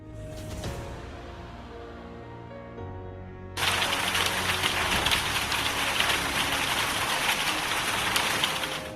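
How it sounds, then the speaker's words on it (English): Heavy rain from a strong storm with hail in Mpumalanga province, South Africa, starts abruptly partway through as a loud, dense, steady downpour after a quieter tonal lead-in. "A strong storm accompanied by heavy rain and hail hit Mpumalanga province, South Africa."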